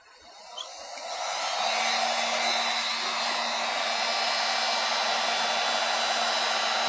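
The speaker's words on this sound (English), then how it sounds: "Again, we're going to apply some heat." A heat gun blows hot air onto an aluminum panel during dent repair, a steady loud whooshing hiss that ramps up in the first second and holds constant, with no talking.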